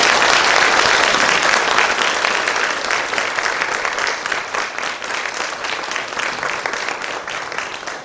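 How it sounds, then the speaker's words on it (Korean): A church congregation claps to welcome the preacher at an anniversary thanksgiving service, loud sustained applause that slowly thins and softens toward the end. "우리 박수로 모시도록 하겠습니다"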